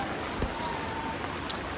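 Heavy rain pours down steadily during a village merit-making procession, a dense, even hiss with no letup and one brief sharp click near the end.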